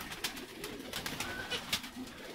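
Pigeons cooing and fluttering close by, with repeated soft calls and rustling wing flaps over a steady outdoor background.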